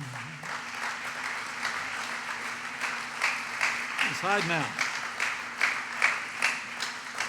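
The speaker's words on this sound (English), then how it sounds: "Would you join me in giving a round of applause for Mark Paulillo?" A crowd at a political rally in Sarver, Pennsylvania, gives a long, steady round of applause for a company CEO, with a speaker's voice briefly heard over the clapping.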